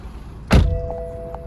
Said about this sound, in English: Just start the car.